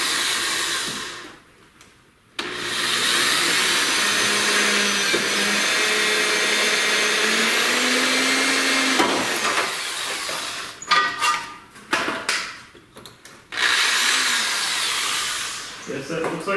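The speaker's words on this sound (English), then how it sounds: "drill hole in here." A power drill whirs loudly and continuously while drilling a hole in a Toyota Camry, cutting out briefly near the start, then stuttering in short bursts and stops toward the end.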